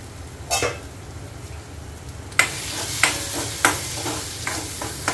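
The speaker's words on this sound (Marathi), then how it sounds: "तेल सुटेपर्यंत आपल्याला हे वाटण भाजून घ्यायचं आहे." Ground spice paste roasting in oil in a pan, a steady soft sizzle with several sharp stirring scrapes and clatters, close and alone.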